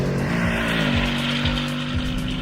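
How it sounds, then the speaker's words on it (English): Ford Mustang GT naturally aspirated V8 revving steadily with a deep harmonic drone, rising and dipping in pitch across a few shifts, loud and close with no talk. "I love the sound of that engine. And unlike the Supra, this is naturally aspirated."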